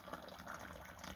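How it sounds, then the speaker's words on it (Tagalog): Warm water is poured into a glass during a morning routine, a brief soft steady trickle and splash heard faintly and close, with no talk. "So, ito na yung tubig natin guys."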